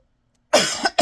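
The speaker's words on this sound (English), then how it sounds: "still have this cough." Two sharp coughs close to the microphone after a moment of silence, the first longer and raspy, the second quick.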